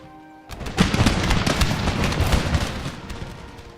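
Grenadiers fire a musket volley in Empire: Total War, a burst of dense, crackling gunshots that begins abruptly and keeps rattling loudly for several seconds, with overlapping reports rolling into a sustained clatter.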